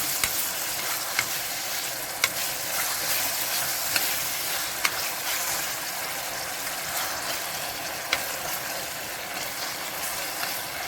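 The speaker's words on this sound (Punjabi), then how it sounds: "ਪਿਆਜ਼ ਆਪਣੇ ਹੋ ਗਏ ਬਰਾਊਨ ਹੁਣ ਪਾਤਾ ਟਮਾਟਰ" Browned onions with tomatoes sizzling in a pan in a home kitchen, a steady close frying hiss running throughout with occasional faint clicks of stirring.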